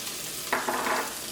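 Chopped green chilies dropped into hot oil with fried cumin seeds for potato bonda filling, giving a sudden close sizzle and bubbling crackle that swells and then steadies, with no talk.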